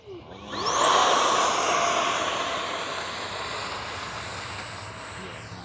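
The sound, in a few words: Freewing F-22 Raptor 70mm RC jet flying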